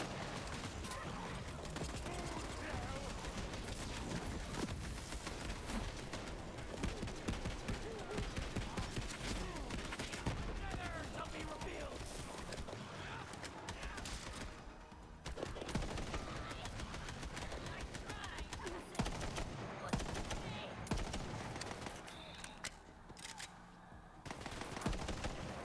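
Sniper rifle fire in Borderlands 3 amid dense, continuous gunfire and mechanical clatter, steady and loud throughout with no pauses.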